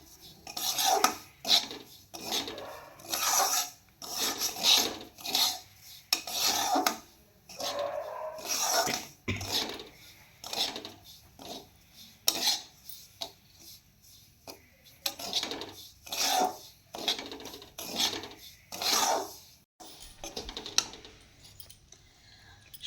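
Semolina roasting in a pan for sooji halwa is stirred and scraped with a spoon, giving close, rhythmic rasping strokes in regular bursts with short pauses.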